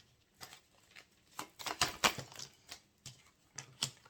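Tarot cards are drawn from a deck one by one, making soft, dry snaps and slides in an irregular sequence of about a dozen close, quiet taps, with a few brief flurries and no speech.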